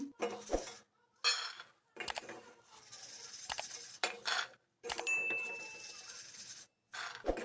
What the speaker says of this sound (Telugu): ఇప్పుడు ఈ పల్లీల్ని సాల్ట్ నుంచి సపరేట్ చేసి వేరొక ప్లేట్ లో తీసుకుందాం